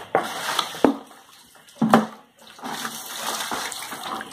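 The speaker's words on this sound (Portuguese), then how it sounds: "Por que balde pra encher?" Tap water pours steadily into a bucket at home, a continuous rushing flow broken by a few sharp knocks and clunks, close by and with no talking.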